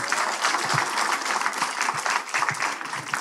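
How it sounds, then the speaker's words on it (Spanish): Church congregation at a Sunday service clapping together, a full, continuous burst of applause that stays strong throughout, with a faint murmur of the crowd underneath. "Un aplauso para nuestro"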